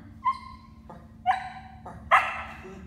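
A 20-week-old black shepherd puppy barks three times at an even pace. Each bark is close, sharp and high-pitched, with a faint yip quality, and there is quiet room noise between them.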